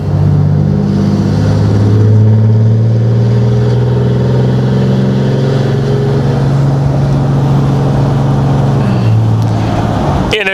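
A 2021 Ram 2500 with a Cummins diesel engine roars through a boosted launch, its loud, steady low drone holding close for about nine seconds before easing off.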